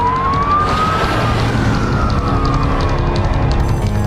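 Airport alert siren during a runway aircraft engine fire emergency, a loud continuous wailing tone rising and slowly falling, sounding alone over a steady roar of background noise.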